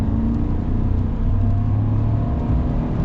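Lifted Chevy Silverado 1500 RST pickup truck accelerating, a low rumbling engine drone with a rising whir, heard from inside or nearby, steady and moderately loud for a few seconds.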